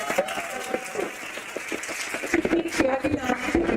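Audience applause for the admins at a COMUN closing ceremony, a moderate spread of clapping across the hall that builds slightly louder toward the end.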